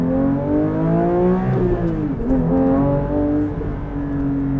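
A Porsche 992 GT3 Touring's naturally aspirated engine accelerating hard, its pitch climbing steadily through the revs, loud and close with a steady roar throughout.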